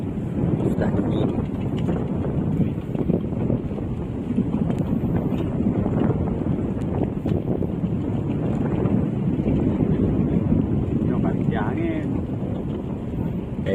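Strong wind at sea buffets a purse seine fishing boat off Banda Aceh on a cold, sunless day, with steady roaring gusts and hull and water noise running continuously and loudly throughout.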